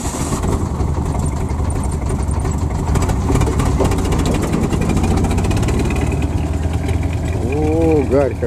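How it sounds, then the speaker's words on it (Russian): A vehicle engine runs steadily and loudly while driving along a dam, a continuous close motor drone throughout, with a voice briefly audible near the end. "Это едет по плотине, которую делали."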